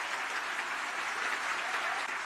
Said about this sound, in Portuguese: Vocês merecem, junto com o Davi H, a maior salva de palmas por estar fazendo o trabalho